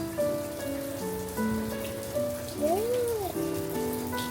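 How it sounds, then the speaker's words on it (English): Summer rain comes down in Louisiana, a close, even patter under faint tonal sounds throughout. "Look at the rain."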